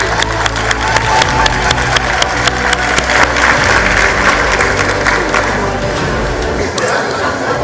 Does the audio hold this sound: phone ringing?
no